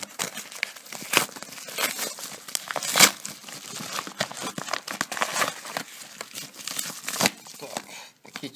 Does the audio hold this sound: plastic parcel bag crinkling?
yes